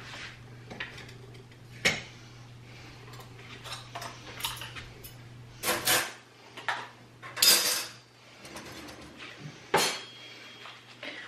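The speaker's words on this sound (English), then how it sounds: "Time for me to put on my gloves and do these nasty dishes." Dishes, pots and cutlery clink and clatter in a kitchen sink as they are washed by hand, irregular sharp clanks and scrapes close by, with a low steady hum underneath and no talking.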